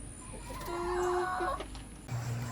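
Faint, close clucking from chickens, newly introduced birds among an established flock, a few short murmuring notes over quiet background.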